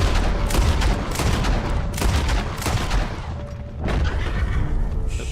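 Gunfire in the video game Red Dead Redemption 2: a rapid string of sharp, loud shots in bursts over about five seconds, with booming reports and no voices.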